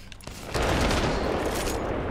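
Mozambique shotgun handgun firing in Apex Legends, a dense burst of loud blasts that starts abruptly about half a second in and keeps roaring without a break, with battle noise behind it.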